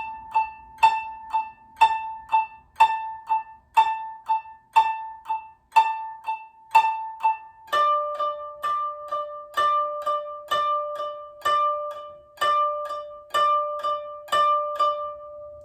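Koto strings 13 and then 10 played with the scooey technique from Hana Ikada: a steady run of about twenty evenly spaced plucked notes, the first group on one pitch and the rest on another, bright and clear, with no speech.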